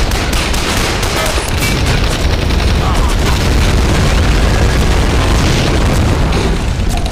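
A Katyusha rocket barrage in the Men of War: Barbarossa war game: a dense, continuous rumble of loud overlapping booms and blasts that runs unbroken for about seven seconds.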